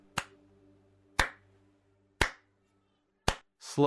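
A single person gives a slow clap: four sharp, close hand claps spaced about a second apart in a quiet room, followed by the start of a voice.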